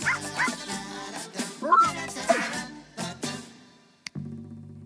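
A cartoon dog on a porch with its owner yips, whimpers and gives short barks in a busy, uneven run over background music, closing with a sudden sharp hit and a low held tone.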